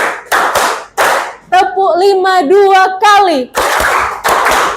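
A group claps together in short, loud bursts for a concentration clapping game in an Indonesian classroom session before presentations. A chanting voice sounds between the clap sets, and clapping returns at the end.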